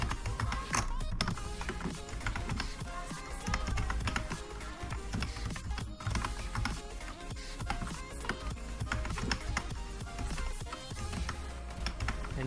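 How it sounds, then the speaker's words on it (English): Typing an email address on a computer keyboard, with a steady stream of light key taps running throughout over background sound, fairly close and moderately loud. "go to sign up and type in your email. Let me type in."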